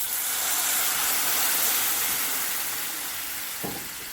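Steady loud hiss and sizzle of wine cooking off in a hot pan for chicken and rice, continuous and close, with a brief soft knock near the end.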